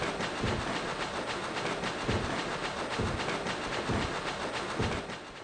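A speedily moving train in the Echo Night video game, a continuous rumbling roll with rhythmic clickety-clack pulses, steady and fairly loud, with no talking.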